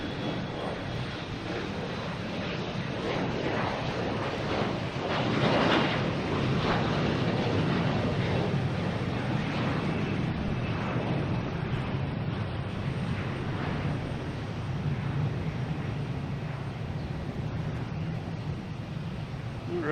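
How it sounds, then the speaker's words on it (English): A JetBlue airliner arriving at Boston Logan from San Diego, a steady broad jet engine roar holding throughout, swelling slightly midway, heard from a distance without talk. "that's being paired with a JetBlue coming in from San Diego"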